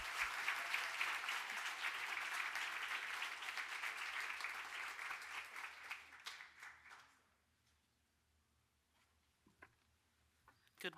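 An audience at the Future of Aging Forum applauds loudly and steadily to welcome a speaker to the podium. The dense clapping fades out after about seven seconds, leaving near quiet with a few faint stray noises.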